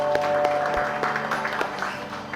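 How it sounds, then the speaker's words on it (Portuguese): A church congregation applauding the music ministry, a short burst of clapping over a sustained tonal hum, moderately loud and steady for a couple of seconds. "Salva de palmas para esses homens de Deus."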